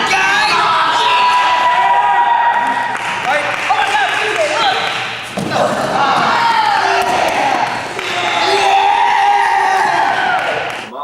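An indoor crowd at an amateur wrestling show cheers and whoops in loud swelling waves, with shouts and screams rising and falling over several seconds and a brief dip in the middle.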